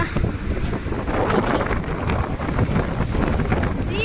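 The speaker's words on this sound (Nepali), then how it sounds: "चिसो हावा लाग्दैछ।" Steady cold wind in Shillong, Meghalaya roars and buffets the microphone, a dense continuous rush with gusty surges, loud and close throughout.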